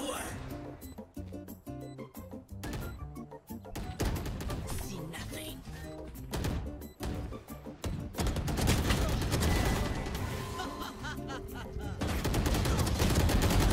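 Sustained, rapid gunfire from an ultimate ability in a Valorant-style video game, dense continuous shots with a speaker talking over the clatter throughout.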